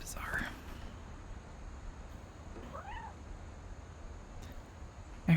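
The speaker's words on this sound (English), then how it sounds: "I heard a cat." A cat meows softly a couple of times in What Remains of Edith Finch, a brief rising and falling cry at mid-distance over quiet ambient game background.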